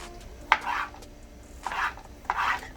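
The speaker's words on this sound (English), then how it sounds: "I just go ahead and chop it up in a few pieces" Three knife chops through an onion on a cutting board, sharp thuds at uneven intervals, close and fairly loud over a quiet kitchen background with no talking.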